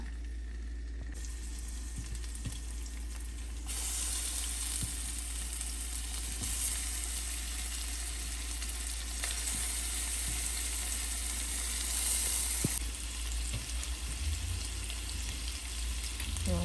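Chicken drumsticks shallow-frying in hot oil, Kerala style, give a steady close sizzle and crackle that swells louder after a few seconds and holds, with occasional soft stirring knocks.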